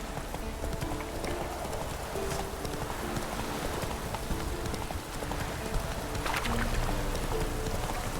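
Roach, a horse in The Witcher 3, gallops with steady rhythmic clip-clop hoofbeats, moderately loud and continuous, with faint ambient game sound around it.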